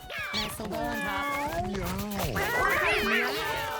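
Several cats meow and yowl in overlapping, drawn-out calls in the Mewgenics video game, a crowded house of cats. The meows rise and fall continuously over a steady background for the whole stretch.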